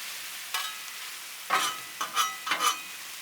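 Smoked sausage frying in oil on a Blackstone griddle, with a faint steady sizzle broken by several sharp spatula scrapes and stirring bursts, close by and with no voices.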